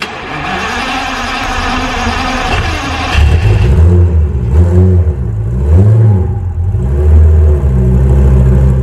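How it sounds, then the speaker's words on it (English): A high-powered Lamborghini Gallardo engine cold-starts with a cranking whir, then settles into a loud, deep idle that swells with a few revs close by, with no voices. "cold start on a very fast Lamborghini Gallardo"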